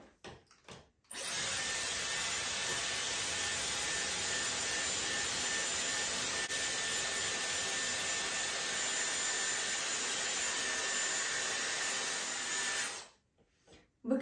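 A Dyson Airwrap hair styler blows steadily while curling a strand of hair, giving a loud, even rush of air with a thin high whine that starts abruptly, runs for about twelve seconds, then cuts off.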